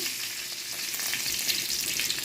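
Green chilies and five-spice seeds crackle in hot oil in a wok, a dense, close sizzle with faint stirring scrapes and no voices.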